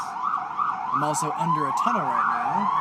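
An ambulance siren wails up and down steadily while someone talks over it.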